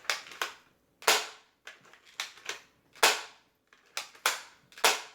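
A thrifted Nerf blaster fires foam darts, giving about eight sharp, close snapping shots in an irregular rhythm with brief silence between each.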